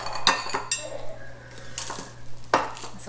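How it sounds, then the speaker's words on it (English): Cookie dough is stirred in a bowl during Christmas Eve home baking, a utensil scraping and clinking against the bowl in a few sharp, irregular knocks with quiet pauses between, close and clear with no one speaking. "this is the way we stir our cookies"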